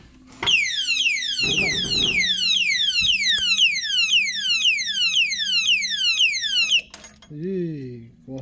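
A padlock theft alarm on a motorcycle wails loudly in rapid repeating downward sweeps, then cuts off abruptly, followed by a brief voice.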